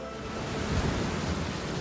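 Steady roar of heavy rain with a low rumble of thunder swelling mid-way, a big storm over a seaside village, continuous and fairly loud with no voices.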